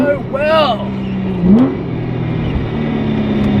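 Engine note of a modified, supercharged 500-horsepower Porsche 911 996, heard from inside the cabin as a close, rising whir that climbs and then settles into a steady drone, with a brief voice near the start.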